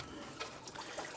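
Leftover coolant drains from a 2009-2019 Ford Flex radiator, a faint, brief trickle and dribble of liquid heard close up.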